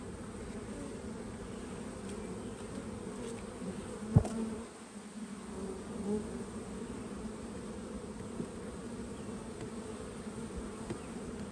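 Honey bees drone steadily and close around a hive frame pulled from a package colony, a dense continuous buzz with one brief sharp knock partway through and no voices.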